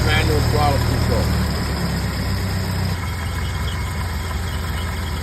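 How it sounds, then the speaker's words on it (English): A cold Ford Model A engine idles just after starting, with a steady low mechanical rumble and a faint high whine. Partway through, the engine sound drops a little in level. "Okay, just started the car."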